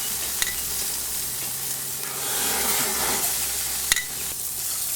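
A sirloin steak sizzles on a Weber Q barbecue, a steady loud frying hiss close up with a couple of brief sharp clicks as the lid or tongs move.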